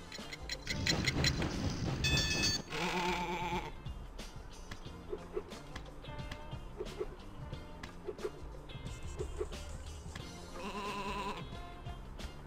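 Sheep bleat in the PS1 video game Sheep, Dog 'n' Wolf, the calls sounding loud and repeated over a steady bed of game music and effects.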